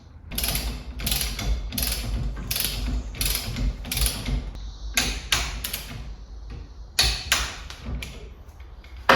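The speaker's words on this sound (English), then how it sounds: "you want to use your 14mm Allen socket and 15mm wrench to tighten this down" A socket wrench ratchets down the lock nut on a 2010 Kawasaki KLX450R dirt bike, with repeated close, loud clicking strokes in steady bursts and a few short pauses between them.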